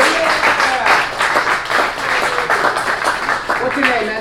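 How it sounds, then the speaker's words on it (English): A live audience gives a volunteer a round of applause, dense steady clapping filling the whole stretch with crowd noise and some voices mixed in. "you got to come up and give him a round of applause"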